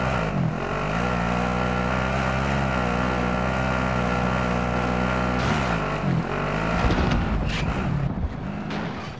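A vehicle engine drones steadily while driving in Call of Duty: Modern Warfare, a loud, continuous motor hum with rumbling low tones that shift briefly near the end, joined by wind-like noise.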